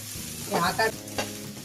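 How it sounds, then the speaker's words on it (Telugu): Ginger garlic paste fries in a pan with a steady close sizzle, broken by a few louder stirring scrapes along the way. "అల్లం వెల్లుల్లి పేస్ట్ పచ్చివాసన పోయే వరకు వేయించుకోవాలండి"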